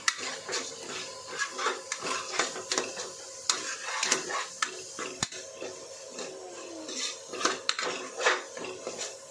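Ginger-garlic masala being sautéed for chicken gravy in a pan, with a spoon or utensil scraping and clinking against metal in steady repeated strokes over a soft background sizzle, close and moderately loud.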